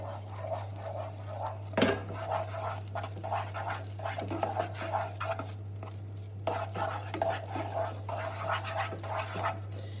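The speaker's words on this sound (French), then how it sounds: "Hors du feu, vous mettez la farine. Vous mélangez." Thick choux pastry dough of milk and flour being stirred in a pan off the heat, with a steady rhythm of soft scraping strokes over a constant low hum, a sharper knock near the start.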